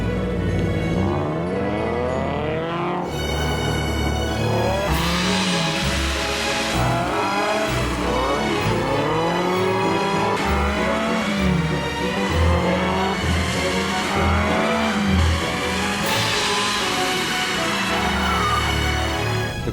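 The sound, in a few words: car drifting on a test track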